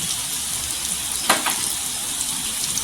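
Dry spices, including turmeric, coriander powder, garam masala and salt, sautéing in hot oil for a spicy potato curry give a steady close sizzle, with one brief louder scrape of stirring partway through.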